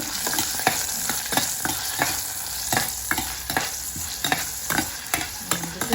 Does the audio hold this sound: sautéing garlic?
yes